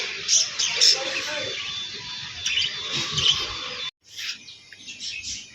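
Lovebirds and pigeons chirping in a pet shop, high, repeated tweets and squeaks near and far, with a brief pause and a louder flurry of chirps afterward.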